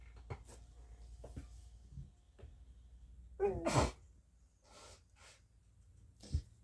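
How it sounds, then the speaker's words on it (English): One sharp, close sneeze stands out amid quiet shuffling, small clicks and breaths, followed by a couple of soft sniffs. "And it turned into a sneeze."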